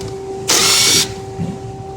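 Impact wrench removing the bolts of a CCV breather cover on a Ram Cummins engine, giving one short, loud, buzzing burst of about half a second and then a faint trailing mechanical sound over a steady hum.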